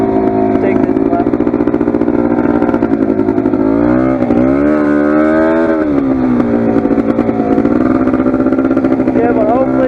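A Polaris 400 ATV engine drones steadily while riding, loud and close, with the pitch dipping and rising as it revs around the middle before settling back to a constant hum; a voice is faintly mixed in.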